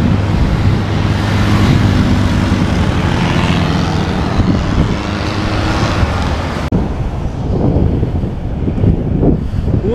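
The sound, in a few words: cool wind blowing at mountain viewpoint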